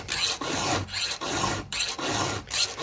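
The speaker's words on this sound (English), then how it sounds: "I need to file until the filing's done." A hand file rasps across a chainsaw chain's cutter in loud, close, rhythmic strokes, each broken by a short pause as the file returns, with no voices.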